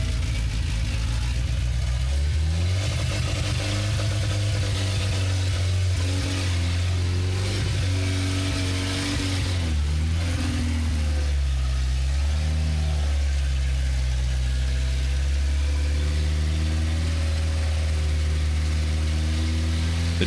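An abandoned police SWAT car's engine pulls loud and close while driving, its steady drone rising and falling as it revs and shifts, with no talking.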